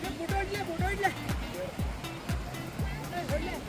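Kitwad Falls near Belagavi pours down with a constant, broad roar of crashing water, while people talk loudly and continuously over it.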